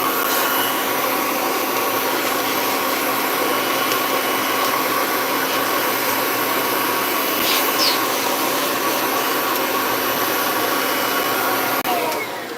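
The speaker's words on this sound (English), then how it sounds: "I'm gonna use a Kirby to clean up a Kirby" A Kirby upright vacuum runs continuously while cleaning a second Kirby, its loud, even motor drone and rushing air staying steady, tapering slightly at the very end, with no voices.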